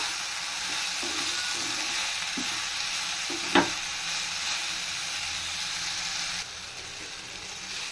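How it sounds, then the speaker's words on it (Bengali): Vegetables for a vegetable roll being stirred as they fry in a pan, with a steady close sizzle, a few soft scrapes and one sharp clink of the utensil, the hiss easing slightly near the end. "কিছুটা সময় আমি নাড়াচাড়া করে সবজিগুলো কিন্তু ভেজে নিয়েছি, বেশ নরম হয়ে এসছে।"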